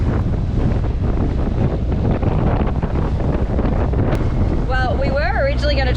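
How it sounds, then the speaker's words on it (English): Strong wind roaring at a sailboat anchorage among other boats, loud and constant against the microphone, with a faint voice-like whine near the end. "It's like the anchorage is generating the wind."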